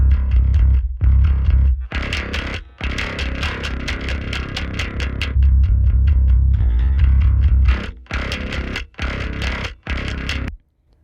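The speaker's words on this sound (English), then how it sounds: "Obviously we have tons of distortion going on and it's mangled beyond any sort of use all on its own." Heavily distorted, fuzzy bass guitar notes played through a distortion plugin in bursts with short silent gaps, loud and gritty with a warbling effect.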